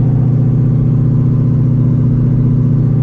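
Supercharged Ford Shelby GT350 V8 running on a dyno, a loud, steady, droning engine roar held at constant revs throughout, close and with no talk.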